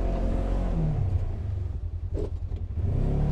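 A Polaris General side-by-side's engine drives through mud at a gravel pit, a loud steady low rumble with a slight rise in revs, close by and without talk.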